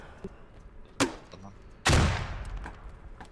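Gunfire during a training session in a video game: a sharp shot, then a louder second blast about a second later with a long rumbling tail, over faint background noise.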